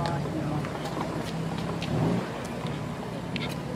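A BMW M4 pulls away at a classic car gathering, its engine swelling briefly as it accelerates off amid road noise, with people talking nearby over it.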